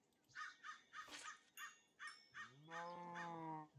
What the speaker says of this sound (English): Get out of the way, cow.